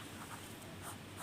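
Pen or chalk writing out a circle geometry solution in a maths lesson, a faint continuous scratchy stroking for about a second, close and alone.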